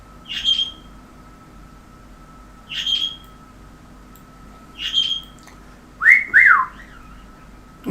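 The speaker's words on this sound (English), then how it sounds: "You nearly whistled wolf whistle back at me then" A bird gives three short, sharp whistle notes spaced a couple of seconds apart, then a loud rising-and-falling two-part wolf whistle, all clear and close against a quiet background.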